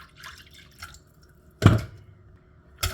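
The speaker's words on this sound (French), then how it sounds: "Encore un tout petit peu d'eau." A small splash of water poured into eggless waffle batter, one brief close pour between faint soft drips in a quiet kitchen.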